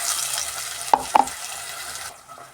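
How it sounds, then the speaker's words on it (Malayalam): Ground masala paste added to hot oil and stirred for a tuna fish curry, with steady frying sizzle and two sharp spoon clacks against the pan. "ഇനി ഇതിലേക്ക് നമ്മൾ തയ്യാറാക്കിയ അരപ്പ് ചേർത്ത് കൊടുക്കാം."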